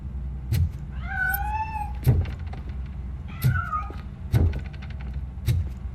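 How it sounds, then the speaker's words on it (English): A cat meows repeatedly in RoboCop Rogue City, rising and falling cries that stand out over a low game ambience, broken by soft thumps and knocks. "That cat must be hiding inside."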